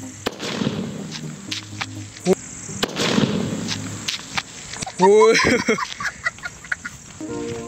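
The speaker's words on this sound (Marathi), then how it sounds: "आता आपण पिठामधला सुत्री बॉम्ब लावून बघूया।" A sutli bomb firecracker set off in a heap of flour bursts with a sharp blast midway, followed by crackling and scattered pops, with voices talking before and after the bang.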